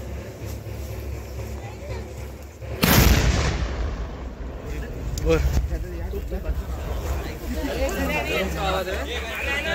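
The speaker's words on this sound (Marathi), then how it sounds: "भरपूर मोठा आवाज येतो त्या तोफेचा" A single loud traditional cannon blast booms out at a temple tradition, then echoes away as a crowd keeps chattering and calling in the background.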